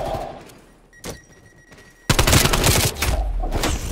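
Gunfire in the Call of Duty Cold War video game: a single sharp shot and a brief spatter early on, then a dense, loud burst of rapid automatic fire filling the last two seconds, with no talking.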